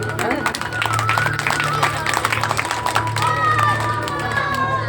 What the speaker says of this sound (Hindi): जोरदार ताली इनके लिए भी बजाओ